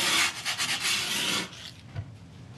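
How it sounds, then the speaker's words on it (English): Sandpaper rubs along the edges of skateboard grip tape in several quick, close, rhythmic scraping strokes, followed by a quieter pause and one last light scrape. "some people like to sand the grip tape because it makes it a little bit harder for it to peel off"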